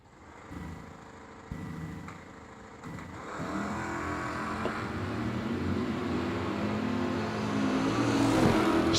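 A Tesla and an Oldsmobile launch side by side at a drag strip, engine and tire noise building from a low idle into a loud, sustained acceleration that swells toward the end.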